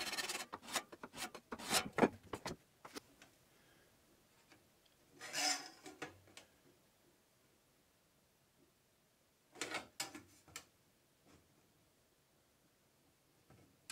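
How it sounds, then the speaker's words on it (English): Hand file rasping across a steel square being flattened by hand, heard as several bursts of scraping strokes separated by quiet pauses, fairly close and moderately loud, with no talk. "I was able to get all this done with a file"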